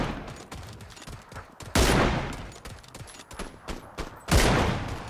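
Gunfire from an M24 7.62 sniper rifle in the video game PUBG Battlegrounds, with two loud sharp shots standing out over a busy, noisy game soundscape of smaller bangs and clatter.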